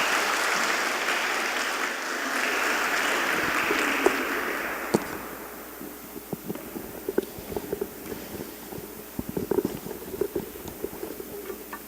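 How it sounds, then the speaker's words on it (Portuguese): Audience at a conference applauds for a professor: a dense wash of clapping fades over the first few seconds and gives way to scattered, sparse claps and room noise. "peço a vocês também uma salva de palmas para o professor"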